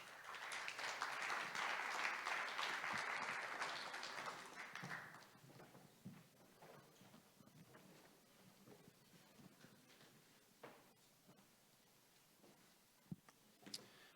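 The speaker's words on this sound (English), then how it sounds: "Let's give them a round of applause." Audience applause at a sports industry summit as panelists come on stage, a loud burst of clapping for about five seconds that fades to scattered claps and room noise.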